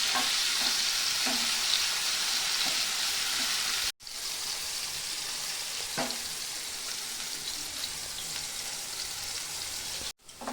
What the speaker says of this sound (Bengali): তেলটা গরম হয়ে গেছে, পনিরটা দিয়ে দেব।